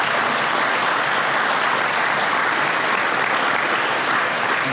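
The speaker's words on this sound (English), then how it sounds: "Can I get a round of applause for the Fair Board?" An audience at a small species barn ribbon-cutting event gives the Fair Board a loud round of applause, dense continuous clapping that holds steady for several seconds, close and without talk.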